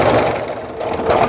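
A sewing machine runs steadily, stitching fabric along a line for a scrappy Christmas tree mug rug, its fast even mechanical chatter close and continuous throughout.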